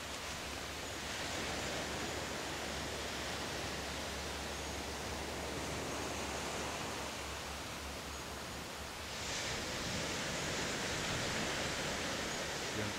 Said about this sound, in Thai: เสียงคลื่นซัดสัดตลอดเวลา